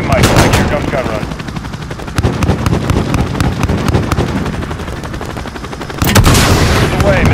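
Sustained rapid gunfire from a helicopter gun run in the video game Call of Duty: Modern Warfare 2, loud dense bursts rattling almost continuously, with heavier blasts near the end and radio chatter mixed in.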